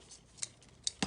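Two or three quick, crisp scissor snips through ribbon for a cheer bow, close and isolated with no talking.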